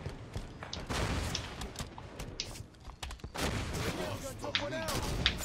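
Weapon fire in a Halo 5: Guardians arena match, with sharp bursts and rumbling booms scattered through the clip. Other game effects are mixed in, and a player's voice comes through faintly at times.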